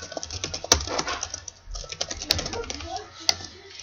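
Sparse computer keyboard typing during a Minecraft multiplayer game, with scattered clicks, a few sharper key hits standing out over quiet background noise.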